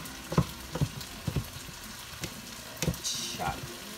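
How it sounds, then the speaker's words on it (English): Zucchini sizzles in a pan for a noodle stir fry, with a steady low frying hiss broken by several distinct taps and clacks of a utensil being tossed and stirred close by. "I'm gonna throw in some zucchini because it's always nice in a stir fry."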